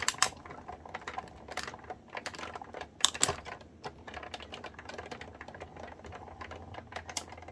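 A die cutting machine with a metal adapter plate and wax paper cranks a die through, giving a steady rattling, clicking mechanical run with sharper snaps scattered throughout, close up and fairly quiet.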